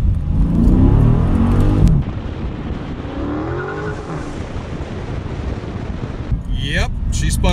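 A Dodge Challenger Scat Pack on stock tires revs hard and spins its tires in second gear at around 25 mph, engine roaring up with tire squeal near the end, while a voice talks over the opening.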